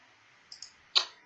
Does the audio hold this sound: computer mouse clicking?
yes